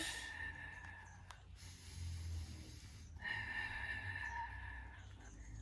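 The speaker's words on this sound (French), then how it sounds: "On fait 3 respirations ensemble." Slow, deliberate breaths drawn in and let out during a Pilates core exercise, close and fairly soft, with a few long inhale-exhale cycles over a low background hum.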